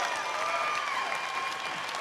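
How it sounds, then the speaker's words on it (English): Crowd applause for MMA fighters after a three-round bout in the cage, steady dense clapping filling the arena, with a voice faintly over it. "Let's give these gentlemen an applause"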